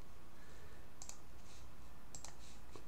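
A few soft, sharp computer mouse clicks in a quiet room as an ISO file is selected, spaced in two small bursts over a low background hiss.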